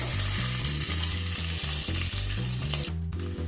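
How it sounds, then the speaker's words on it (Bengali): Potatoes and carrots sizzle in oil in a pan for khichuri, a continuous close frying hiss broken by rhythmic scrapes of stirring against the pan, with no voices. "এবার আলু আর গাজরটাকে খানিকক্ষণ একটু ভাজা ভাজা করে নেব।"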